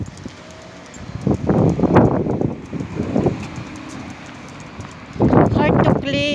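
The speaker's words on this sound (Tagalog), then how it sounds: "I don't know why always windy here, sandstorm, too much dust guys." Strong sandstorm wind buffets the microphone in loud, uneven gusts with deep rumbling bursts and quieter stretches between.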